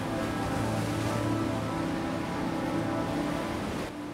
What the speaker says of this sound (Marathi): समुद्राची गाज ऐकत चहा पिण्यात एक वेगळीच मजा आहे.